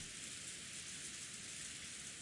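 Heavy rain beats steadily on a window in the video game Umineko When They Cry, a faint, continuous hiss of pouring rain with no voices.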